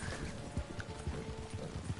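An American Paint horse in Red Dead Redemption 2 clops along with steady, fairly close hoofbeats, a brief whinny rising over the steps, set against a low game soundscape.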